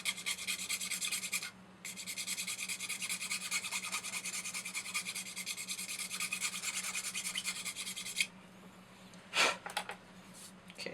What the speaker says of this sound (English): So I'm just gonna finish filing everything.